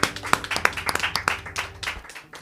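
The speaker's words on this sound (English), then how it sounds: "I just need you guys to give yourself a round of applause because you've been amazing." A small audience claps in a loose, uneven burst, with distinct individual handclaps spaced irregularly that thin out and fade over a couple of seconds.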